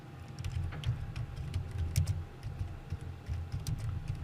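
Rapid, uneven keystrokes on a computer keyboard come from close by, a light clatter of taps with brief pauses over a low background hum.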